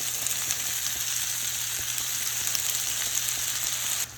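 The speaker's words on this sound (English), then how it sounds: "we are going to go ahead and add a mixture. This is soy sauce and white vinegar" A soy sauce and white vinegar mixture sizzles in a hot pan, giving a steady, dense crackling hiss that stays even and close for several seconds before cutting off abruptly.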